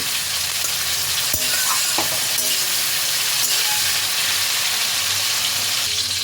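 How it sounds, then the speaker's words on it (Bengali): Chopped tomatoes sizzle and fry in hot oil, with a steady crackle running the whole time and occasional scraping knocks from a utensil stirring them in the pan, close and fairly loud, no talking. "টমেটো কুচিগুলোকেও খানিকক্ষণ তেলের মধ্যে নাড়াচাড়া করে নেব, যতক্ষণ না টমেটোগুলো একটু নরম ভাব আসছে"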